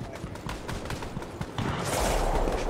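Gunfire rattles in an online shooter match, including a sniper shot. Rapid sharp cracks come close together, then a louder, denser wash of noise takes over toward the end.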